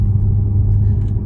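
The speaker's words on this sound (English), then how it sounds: "So in dynamic mode, you can hear the engine behind me." Audi B9 S5 with an 034 Motorsport Stage 1 tune and TCU upgrade in dynamic mode: a deep, steady engine rumble heard from inside the car while driving, continuous and fairly loud with no talking.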